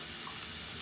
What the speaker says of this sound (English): I'm going to pour a little bit of water in there.